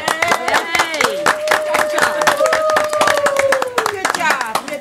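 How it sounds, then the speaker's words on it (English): Attendees at a county social services board meeting clap their hands in a steady burst of close applause, with voices talking and cheering over it throughout. "Let's clap."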